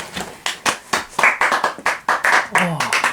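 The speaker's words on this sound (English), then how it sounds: "there's something funny about clapping yourself" Claps from a small group welcoming a guest onto a talk show in Melbourne ring out in a quick, uneven burst of sharp strikes up close, with voices mixed in around them.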